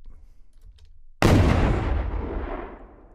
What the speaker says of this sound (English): Now let's go to an explosion sound.